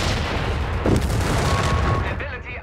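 Dense, booming battle noise from a Stummel firing in Company of Heroes 3, with heavy gunfire and explosions packed close together and loud throughout, and a voice just audible under the din.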